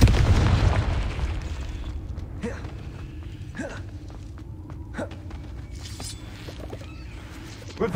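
A Confringo spell going off in the video game Hogwarts Legacy: a loud, deep blast at the start that fades into a low rumble, followed by scattered creaks and small clatters.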